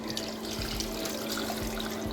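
Water poured into a pot of fish head soup, a steady broadband splashing and trickling stream running throughout at moderate level with a faint low hum beneath.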